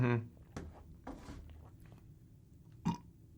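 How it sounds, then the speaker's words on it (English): A burp right after a drink opens the clip, short and close, with a second smaller burp near the end; quiet room noise and faint handling sounds fill the gap between them. "just drank that and then just burped"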